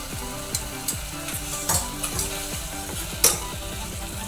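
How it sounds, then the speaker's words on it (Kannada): Curd and spice masala frying on a medium flame for egg donne biryani, stirred in the pan: a steady close sizzle with repeated scraping strokes of the spoon over soft background music. "ಮೊಸರು ಮಸಾಲೆ ಎಲ್ಲ ಹಸಿ ವಾಸನೆ ಹೋಗೋವರೆಗೂ ಒಂದು 2ರಿಂದ 3 ನಿಮಿಷ ಮೀಡಿಯಮ್ ಉರಿಲಿ ಫ್ರೈ ಮಾಡ್ಕೋಬೇಕು"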